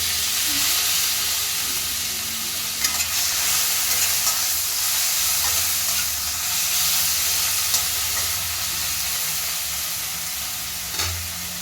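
Onions crackle and sizzle in hot oil with cumin, a steady close frying hiss broken by a few stirring scrapes, continuous and fairly loud with no talking.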